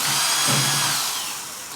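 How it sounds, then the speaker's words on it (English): A power drill bores a hole through a plastic container cap while making a DIY urine collector for home gardening, a steady loud whirring grind lasting nearly two seconds that fades slightly toward the end. "take just the drill this out"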